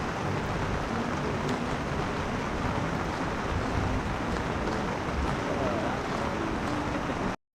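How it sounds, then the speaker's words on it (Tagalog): Steady rain pattering on a tent or awning at a riverside camp, a dense continuous hiss that fills the whole stretch without a break, with low rumbling underneath; no distinct thunderclap stands out. "yung patak ng ulan sa tent mo o sa awning mo yung kulog"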